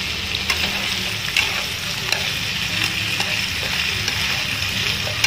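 Spicy mixed seafood noodles hiss and sizzle loudly in a hot pan while being stir-fried, with a steady frying roar and scattered clinks of stirring throughout.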